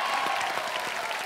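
A studio audience at a televised singing competition claps briefly and evenly for a song, a short dense burst of applause with no voices over it.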